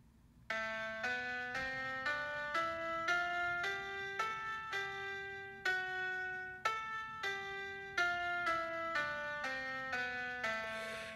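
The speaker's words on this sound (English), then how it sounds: "Or a minor key, which would sound something like this." Minor scale played as a run of distinct bell-like single notes, evenly paced, rising and then falling in pitch, moderately quiet with no voices.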